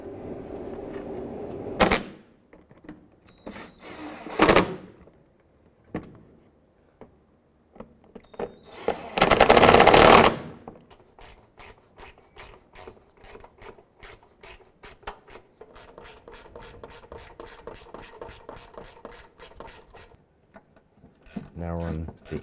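A ratchet tightens 10mm bolts on a 2001-2007 Ford Escape front bumper inside the fender well, with scattered knocks and a loud scrape, then a long run of quick, even clicks, close by.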